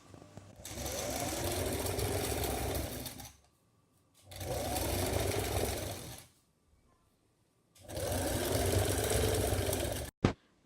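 A sewing machine stitches the seams of a long gown in three steady runs of about three seconds each, separated by short pauses, ending with a sharp click.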